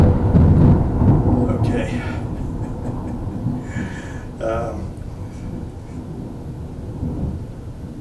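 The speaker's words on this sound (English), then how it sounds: "I thought the storm was moving away, but that's another band coming in or something" Thunder from an approaching storm band rumbles loudly at first, then fades into a low, rolling grumble, with a brief spoken word over it.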